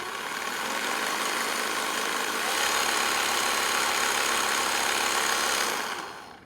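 A Theragun G3Pro massage gun running at its low speed gives a steady, close motorized buzz that holds evenly for several seconds, then tails off, with no talking.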